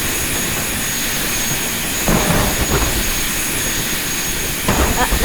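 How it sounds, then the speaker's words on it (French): A jet airplane engine in BeamNG.drive roars steadily and loudly throughout, a dense broadband whoosh with a couple of brief surges partway through. "on a un avion qui peut pas décoller"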